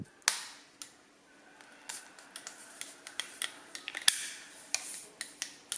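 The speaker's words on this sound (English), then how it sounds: "Philips says you need to feel the click when you insert the tip" A Philips oral irrigator tip being pushed into its handle gives sharp, close plastic clicks, a scattered series of snaps spread across a quiet background.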